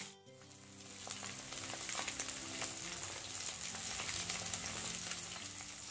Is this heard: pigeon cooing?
no